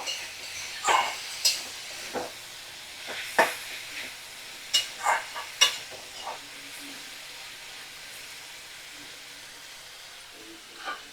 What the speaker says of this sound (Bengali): একটু নুন দিয়ে আরও ভালো করে নাড়াচাড়া করে নেব দু থেকে তিন মিনিট